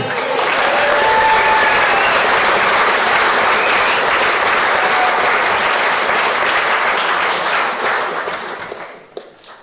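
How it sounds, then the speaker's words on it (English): Sustained, loud applause from a crowd at the close of a nine-hour lamb-shearing world record attempt, dense clapping throughout that fades out near the end. "so a round of applause for Dusty."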